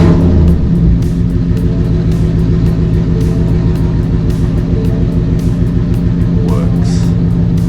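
A Ford Mustang's engine runs at a loud, steady idle close by, a low droning rumble with a faint click or two over it and no voices.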